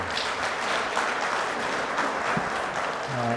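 An audience at a Chungbuk economic forum claps for an outgoing institute director, with sustained even applause and a faint voice emerging near the end.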